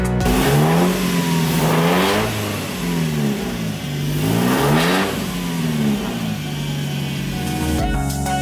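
A Mitsubishi car engine revs repeatedly, rising and falling in loud, close surges with a rough mid-range growl settling near idle between blips.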